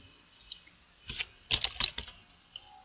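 Quiet keystrokes on a computer keyboard come in a short burst of a few clicks, then a quick cluster of sharper taps and a last lone press, close and fairly faint.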